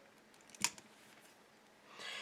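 A single sharp snip as pliers cut wire while making a wire-wrapped pendant, close and fairly quiet, followed by a faint rustle.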